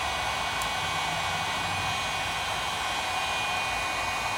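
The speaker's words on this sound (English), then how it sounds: "this is where that heat gun comes into play" Heat gun blowing on fog light tint film on a 2016-2017 Ford Explorer, a steady close whooshing airflow with a constant hum that holds unchanged throughout.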